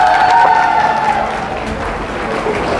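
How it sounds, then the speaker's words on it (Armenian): Wedding guests applaud for the bride's side, a dense, loud wash of clapping from a crowd close by, fading slightly after the first second. "ծափ են տալիս, մեր հարսիկի կողմը"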